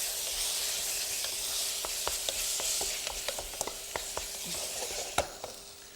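Diced mango sizzling and being stirred in a hot pan of mango chutney, a steady close hiss broken by sharp irregular clicks and scrapes of the spoon, with no talking.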